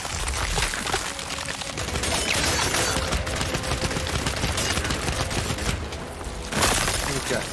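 Sustained gunfire at a boss's back in Gears 5, loud continuous automatic shooting with crunching impacts, under game noise and occasional voices.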